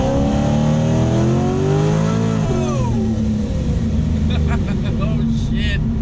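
A 1,000 hp Corvette Z06 at full throttle on a highway, its engine roaring loud and close with rising revs and a gear change midway, voices talking over it near the end.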